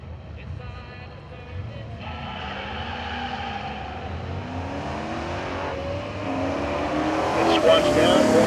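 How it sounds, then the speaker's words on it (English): A Corvette with independent rear suspension launches hard at a dragstrip reunion, its engine note rising steadily and growing louder over roughly eight seconds, with a voice talking over the run. "As this Corvette launches, watch how the rear squats and the rear tires sort of camber inboard at the top."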